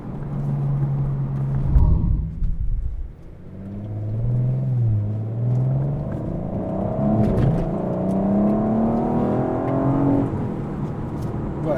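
A 2021 Audi RS4 engine revs and pulls hard under acceleration, a loud, close rumble with rising and falling harmonic sweeps, a brief drop near the third second, then a long climbing run.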